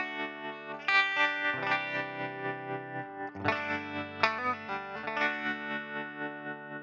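Electric guitar played through a Kmise tremolo pedal, sustained chords pulsing in a quick, regular volume wobble, with a few fresh strums breaking the rhythm.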